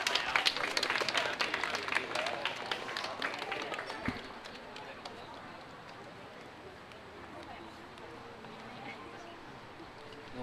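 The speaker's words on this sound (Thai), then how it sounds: "ได้ขอเสียงปรบมือด้วยครับ" Wedding guests clapping at a reception as family members are called up onto the stage, a burst of many hands for about four seconds that fades into quiet room murmur and faint voices.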